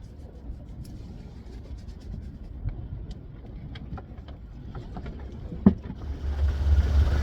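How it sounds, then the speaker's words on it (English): A sailboat motoring under engine on the Intracoastal Waterway in 20-knot wind: a steady low engine drone with rushing wind and water noise, continuous and moderately loud, with a few faint clicks and knocks. "Motor sailing up to ICW."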